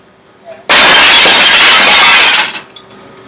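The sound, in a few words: glass being broken with a brick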